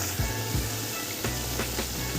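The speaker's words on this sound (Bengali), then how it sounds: "চিংড়ি মাছগুলো মশলার সাথে কষতে থাকছে" Prawns sizzle in a pan of spice masala, a steady close frying hiss with a few soft scraping strokes of a spoon, no voices.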